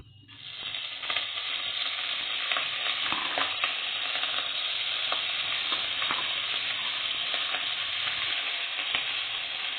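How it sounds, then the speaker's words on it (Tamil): Drumstick leaves frying in oil in a kadai for sambar, a steady close sizzle and crackle with occasional stirring scrapes, continuous and fairly loud throughout. "எண்ணெய் சேர்த்துக்கிட்டு அந்த கீரையை அதில் போட்டு நல்லா வறுத்துக்கிறோம்."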